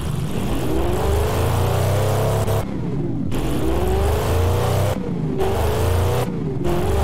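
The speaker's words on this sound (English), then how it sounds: "I wonder what it sounds like. Ooh, that's a good engine." A W12 land speed record car engine revs hard and close, its pitch rising and falling through several throttle blips with brief gaps between.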